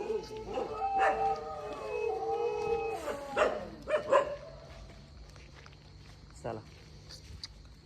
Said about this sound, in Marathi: कुत्रे कुत्रे त्रास देत आहे